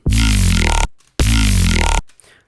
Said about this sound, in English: now we are starting to hear the growl that we hear in every dubstep song ever